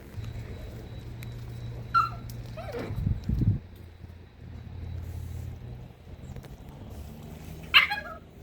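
A dog gives a few thin, high whimpers spaced apart over a low steady hum, with a brief rustle or thump partway through.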